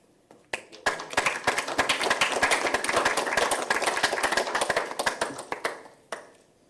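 Hand clapping from people at a school district board meeting, a scattered group clapping steadily for several seconds before tapering off to a few last claps.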